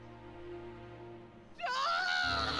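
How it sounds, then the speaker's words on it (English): A scream in the Back to the Future video game, rising suddenly and loudly after a quieter stretch of background music and effects, with a strained, wavering pitch that holds for about a second. "Wow, that was a scream right there."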